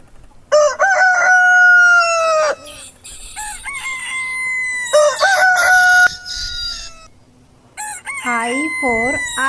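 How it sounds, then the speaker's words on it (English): A rooster crows several times with long, loud calls, mixed with hens clucking and squawking nearby; no talking. "H for hen."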